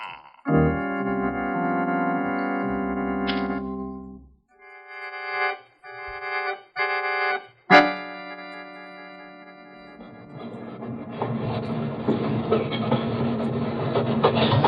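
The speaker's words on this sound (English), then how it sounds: "The train is slowing down, Ken. We've reached the Carlsbad yards." A radio drama sound effect of a train slowing on the rails: whistle-like tones and clanking bursts give way to a steady rumbling roll, fairly loud, with no voices.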